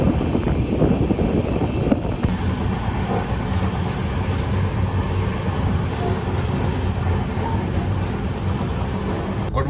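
Steady rumble and rattle inside a moving Duronto Express sleeper train running at night between Bengaluru and Delhi, with continuous clatter of wheels on track, constant and fairly loud, no talking.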